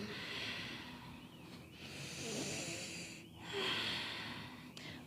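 Slow, deep breaths during a seated yoga side stretch, soft airy inhales and exhales close to the mic in a quiet room.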